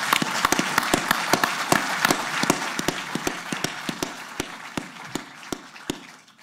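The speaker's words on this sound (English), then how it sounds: "I'd just like to have a round of applause right there." A press conference crowd applauds steadily, with sharp individual claps standing out over a dense wash of clapping that tapers slightly toward the end.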